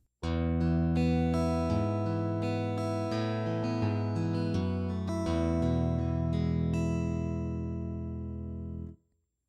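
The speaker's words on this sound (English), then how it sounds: "the sound crosses between an electric guitar and acoustic" A sustained, strummed virtual guitar tone (RealGMS) with bright attack and full body, somewhere between electric and acoustic, ringing steadily for several seconds before cutting off.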